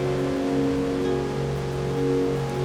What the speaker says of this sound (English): Had some distortion.